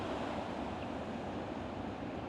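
Ocean waves break on a beach in a steady, even wash of surf with some wind noise, moderately faint and without speech.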